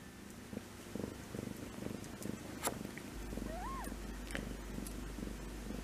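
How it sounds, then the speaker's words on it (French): A cat purrs close by in a low, steady, rhythmic rumble that continues throughout, quiet and alone, with a brief faint chirp partway through. "Tu ronronnes, hein?"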